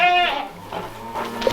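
Goats on a farm give a short, close, wavering bleat at the start, followed by fainter bleats and outdoor ambience.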